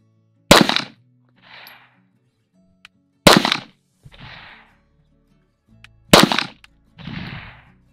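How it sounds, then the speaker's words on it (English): Three sharp, loud pistol shots from a Canik TP9SFX, fired at roughly three-second intervals at target practice, each followed a moment later by a softer hissing echo or rustle. "Let's see if I can adjust this with my own shots."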